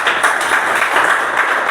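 Audience applause with clapping on cue at a discipleship training session, a dense steady patter of many hands, loud and close, with some voices mixed in.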